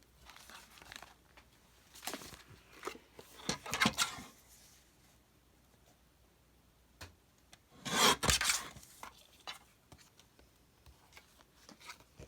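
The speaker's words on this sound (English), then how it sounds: "so I'm going to trim a little bit off of that one too." Paper being trimmed for a decorated craft project, heard as several soft rasping and rubbing cuts in short bursts, with a louder stretch near the end and quiet pauses between strokes.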